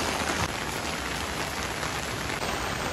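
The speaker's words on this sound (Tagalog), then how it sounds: "naulan ngayon dito" Steady, dense rain pours down close by, a loud continuous hiss of drops hitting surfaces with no other sounds standing out.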